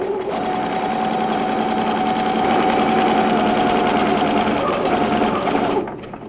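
A sewing machine stitching fabric for a simple bib runs in one continuous loud buzzing burst for almost six seconds, then stops abruptly, leaving faint room noise.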